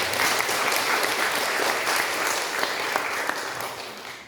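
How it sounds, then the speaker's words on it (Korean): A church congregation claps to welcome a guest during a service, a steady, dense round of applause that holds for several seconds and fades slightly at the end. "잠시 자리에 일어나시면 환영의 박수하도록 하겠습니다."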